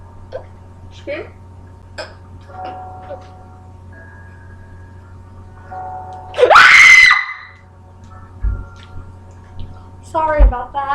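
One person lets out a single sudden, piercing scream partway through, loud and near, framed by quieter scattered vocal sounds and a brief squeal near the end.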